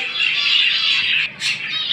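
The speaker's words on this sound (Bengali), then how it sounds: "সবসময় শব্দ করে পাখি থাকে" Pet birds, including Bengalese finches, squawking in a breeding bird shop, a dense, loud chorus of shrill calls filling the whole stretch with only a brief dip, and no talking over it.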